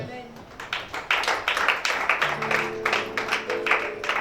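An audience at a church conference in Libreville applauding, rhythmic clapping that builds and continues steadily beneath a preacher's loud voice.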